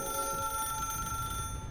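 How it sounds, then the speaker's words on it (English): A telephone rings in the video game Mystery Case Files 13th Skull, a steady electronic trill held for under two seconds, fairly quiet and alone. "Oh, phone call."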